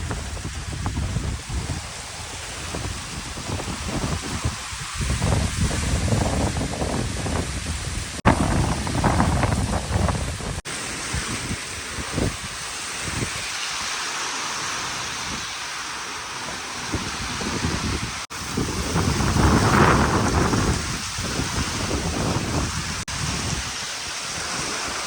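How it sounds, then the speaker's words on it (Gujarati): Heavy rain pours steadily during a windstorm, a dense continuous wash of falling water with gusts of wind rising and easing throughout, fairly loud and close, no voices. "બરાબરના વાવાઝોડા સાથે વરસાદ તો આવવા લાગ્યો"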